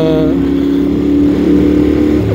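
A 2023 Yamaha Tenere World Raid motorcycle with an Akrapovic exhaust idles with a deep, throaty exhaust rumble that stays steady and loud throughout, a slight rise in revs near the end.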